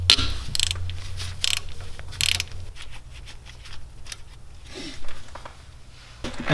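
Ratcheting metal clicks and tool-on-metal ticks from a 4mm hex tool loosening the wheel speed sensor bolt on the front hub of a BMW E9x xDrive, several bursts of clicks close up, with no talking.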